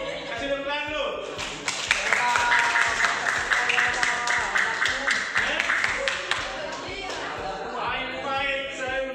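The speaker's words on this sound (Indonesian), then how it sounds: "kasih tepuk tangan dulu" Classroom audience applauds a student group during a school presentation, with clapping swelling in the middle and tapering off while voices carry on underneath throughout.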